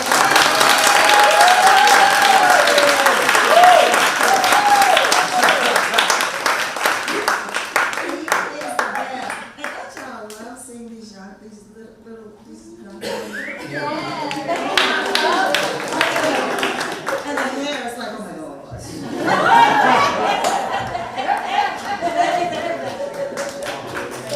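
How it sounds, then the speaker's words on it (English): Audience applause for a festival director and his staff at a keynote event, loud and sustained at first, dipping briefly, then swelling again amid scattered voices. "do we give him a big round of applause?"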